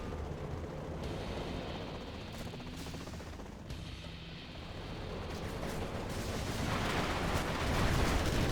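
A quad cannon in a sci-fi base-defense strategy game fires in a dense, continuous barrage of rapid shots and blasts, growing louder and heavier toward the end, with no talk.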